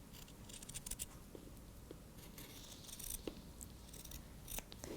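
Scissors trim fabric placemat edges in quick close snips, a series of crisp cuts and rustles spread unevenly across a few seconds at low volume.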